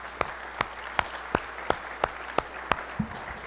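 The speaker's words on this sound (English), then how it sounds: "If we could give a round of applause to our sponsors." A handful of slow, separate claps spaced evenly, like a sparse audience at a mining industry forum in Toronto acknowledging sponsors, each clap crisp and distinct against a quiet room, with a faint low tone near the end.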